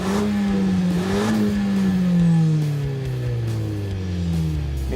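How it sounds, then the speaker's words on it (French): Renault Mégane GT dropping through several gears in quick succession, engine note blipping up with each downshift then sliding lower, loud and close with a continuous mechanical drone. "là la voiture rétrograde aussitôt qu'elle le peut plusieurs rapports"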